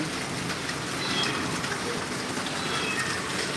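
Stormy rain pours beside a highway, a steady, dense roar of rainfall filling the air with no distinct vehicle passes standing out.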